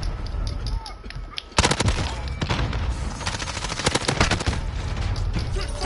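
Rapid pistol gunfire in a Call of Duty multiplayer match, with quieter ambience at first and then sharp repeated shots from about 1.5 seconds, loud and close, with chatter underneath.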